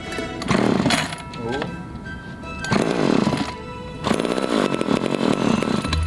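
A vintage chainsaw engine sputters and revs in repeated bursts, roaring up and dying back, with people talking over the noise.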